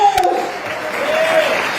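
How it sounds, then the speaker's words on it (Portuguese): Congregation applauding in a church during a sermon, a broad clapping wash at moderate level with a voice speaking or singing over it. "aplauda esse Deus"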